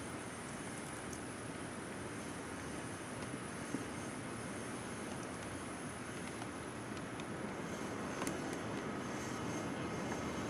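Rockwell X-31 jet in Flight Simulator X, a faint, steady broadband engine roar with a thin high whine held throughout, distant and without voices.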